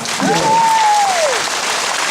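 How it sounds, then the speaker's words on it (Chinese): A concert audience applauds loudly and continuously, dense clapping filling the space, with a rising and falling whistle or voice tone cutting through near the start. "给自己一个掌声好吗？"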